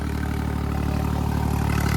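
An Eicher tractor engine runs steadily and loudly while planting potatoes in a field, with a close, continuous low rumble and a regular pulsing beat and no talking.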